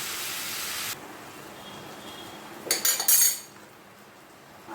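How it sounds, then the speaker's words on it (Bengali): Chopped teasel gourd with green chilli being stirred and fried in a pan, a soft steady hiss broken by a brief burst of clattering spatula-on-metal scrapes, fairly quiet. "সবজিটাকে কষিয়ে নেব।"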